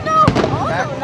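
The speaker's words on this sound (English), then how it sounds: "You like the pretty fireworks?" Fireworks burst during a Fourth of July family gathering, a sharp loud pop followed by crackling and a whistling, warbling tone, with voices chattering around it.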